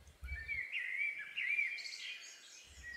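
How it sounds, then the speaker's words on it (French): Small songbirds chirp and sing in springtime, a bright continuous warbling phrase with overlapping calls from more than one bird, moderately close and steady over faint low background rumble. "Les petits oiseaux qui chantent"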